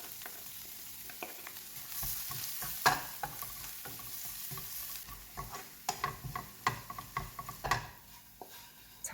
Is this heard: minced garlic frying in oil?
yes